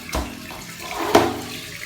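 Water running and splashing while jeans are washed, a steady close wash of flow with a couple of sharper splashes, moderately loud and without speech.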